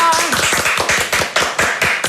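A small group claps in a fast, steady rhythm at a dinner-party gathering. The claps are close and sharp, with a brief voice at the start.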